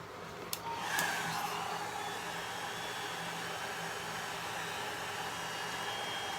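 A hair dryer blows steadily over alcohol ink artwork: a continuous, even, fairly faint airy whoosh that holds without a break.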